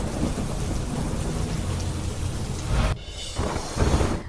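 Heavy rain pours steadily around a Gujarati village near the Sardar Sarovar Narmada dam while deep thunder rolls through, loud and close, with a rumbling burst near the end.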